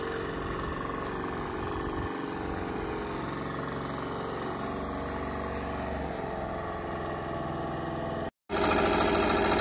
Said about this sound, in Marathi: विकी सर लावलं ट्रॅक्टर